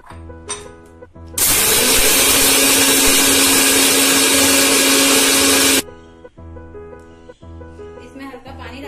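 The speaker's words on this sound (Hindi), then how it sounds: "मिक्सी में हम इसे पीस लेंगे।" A mixer grinder grinding cumin roars loudly for about four seconds, starting and stopping abruptly, with background music before and after.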